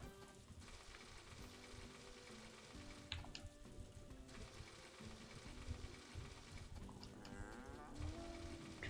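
Cows moo repeatedly in the farming video game Story of Seasons: A Wonderful Life, several low drawn-out calls at a moderate distance over quiet game ambience, with no talk.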